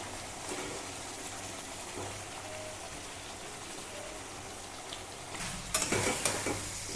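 Chicken pieces dropped one at a time into a pan of sizzling chili sauce for chili chicken, a steady low frying hiss with a burst of louder crackling and stirring near the end, no talking.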